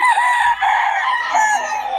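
Fighting cocks crowing, several drawn-out calls overlapping, loud and close, with faint clucking and a murmur of voices underneath.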